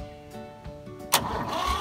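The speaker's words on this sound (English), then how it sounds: "we're gonna go ahead and crank it again to build the pressure" A diesel engine is cranked after running out of fuel and having air bled from its injector: a brief whirring crank, then a sudden louder burst as the engine catches and runs close by.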